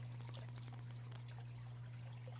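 A pump hums steadily and faintly as it moves water through a plant system back into a pond, with soft trickling and scattered drips over the constant drone.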